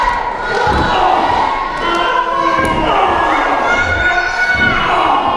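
A wrestling crowd at an independent show cheers and shouts continuously, loud and close, with children's voices and scattered thuds mixed into the roar.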